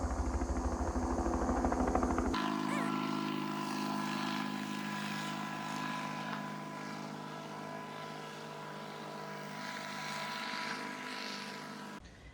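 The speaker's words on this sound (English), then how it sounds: "helicopter and it sounds extremely low" A steady, loud droning rotor roar hangs overhead for the whole stretch, broad and rumbling, after a brief burst of other noise at the start.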